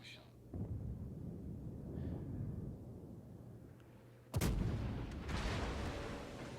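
Smolensk cruiser guns in a naval video game firing in rapid succession, heavy booming shots rolling under a low game soundtrack, with one sharper, louder blast partway through.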